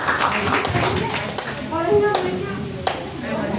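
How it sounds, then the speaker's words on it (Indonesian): Audience clapping for a student volunteer at a student organization training session, a lively burst of claps that fades beneath talking voices, with a few sharper individual claps standing out. "Tepuk tangan Kak, yang meriah"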